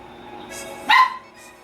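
A single sharp dog bark, loud and close, rising briefly out of a quiet background with no speech.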